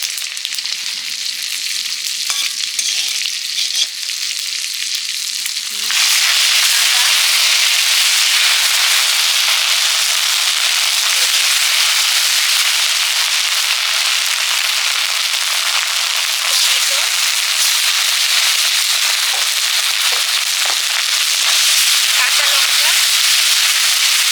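Dried chillies, bay leaves and whole cumin crackle in hot oil for a katla fish curry, a dense, loud, steady sizzle that jumps up sharply after a quieter opening and keeps popping continuously.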